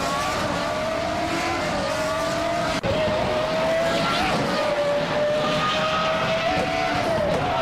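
A 1996 Sauber C15 and rival cars launching at the start of a racing video game, a loud continuous roar of high-revving engines with rising pitch and tire noise, steady throughout.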